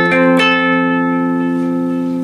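Electric guitar phrase from a lesson, with a couple of picked notes and a pull-off ringing into sustained, reverberant tones, played alone and fairly loud.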